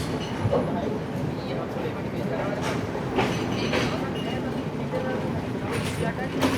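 A passenger train runs along the Indian Ocean coast near Colombo, Sri Lanka, its steady rolling rumble and rattling carriages continuous and close, with occasional clicks of the wheels.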